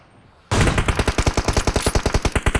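Rapid automatic gunfire in a shooting video game erupts suddenly after near silence, a loud, steady stream of close, evenly spaced shots continuing without pause.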